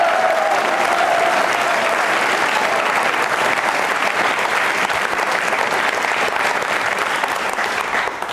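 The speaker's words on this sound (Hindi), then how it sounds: "तालियां बजाइए प्रधानमंत्री जी के सम्मान में, जोरदार तालियां बजाइए।" Audience applause at a televised question-and-answer program, loud and continuous clapping from a crowd sustained for several seconds.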